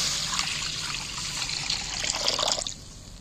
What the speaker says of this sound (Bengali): কোড়ায় আমি জল একদম ঢেলে দিচ্ছি।